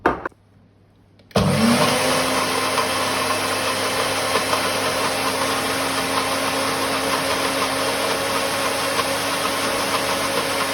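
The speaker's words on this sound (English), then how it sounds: "we're just going to use the processor to actually blend everything up" After a moment of near silence, a food processor blending blue swimmer crab whirs into life and keeps up a loud, continuous, even grinding drone.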